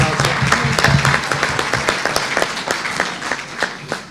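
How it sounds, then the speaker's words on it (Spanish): Audience applause at a conference gathering: a dense, steady patter of many hands clapping fills the room at moderate loudness and carries on without a break, with a faint murmur of voices underneath. "Merece el aplauso."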